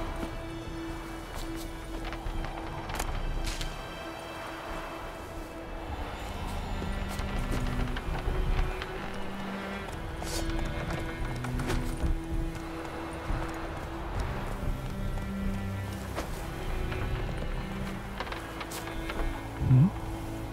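Horse hooves clip-clop in The Witcher 3 video game, a steady rhythmic clatter running throughout amid mechanical creaks and a busy game soundscape, with faint voices now and then.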